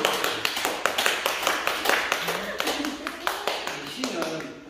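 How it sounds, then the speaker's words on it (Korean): A small class audience claps after a Korean poetry recitation, a dense run of sharp hand claps, close and moderately loud, with faint voices underneath. "박수 한번 주세요"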